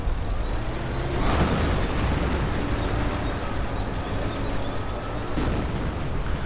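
Shell explosion striking a medic bunker in an Eastern Front mod of a WWII real-time strategy game, with dense battle noise throughout and sharper blasts near the start and end.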